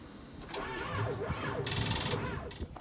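A red farm tractor struggling to start on weak batteries, the starter motor cranking in labored, wavering cycles with bursts of sharp mechanical noise as the engine tries to catch, fairly close and alone.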